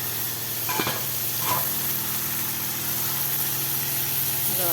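Boneless chicken sizzles steadily in a pan with onion and tomato, a constant frying hiss with a couple of brief scraping stirs near the start.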